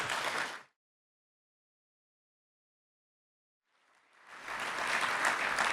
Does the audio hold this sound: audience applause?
yes